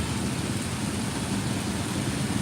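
Heavy rain pours down in Hyderabad as a dense, even hiss that stays loud and unbroken, with no voices.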